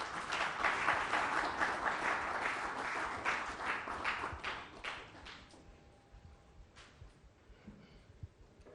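An audience at a Pan-African excellence awards ceremony claps loudly in a dense burst that thins out over several seconds into scattered claps and a quieter room.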